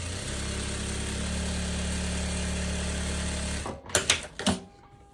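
A sewing machine runs steadily for several seconds, stitching rows of lastex shirring onto viscose fabric for a romper, then stops and gives way to a few handling clicks and rustles.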